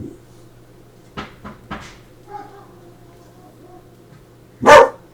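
A few faint distant barks from neighborhood dogs come first, then one loud sharp bark close by near the end, over a quiet room with a low steady hum.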